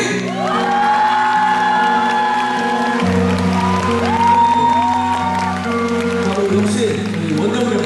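A large audience claps and cheers loudly and continuously over live music at a Korean rock band's 20th anniversary concert, a steady wash of crowd noise.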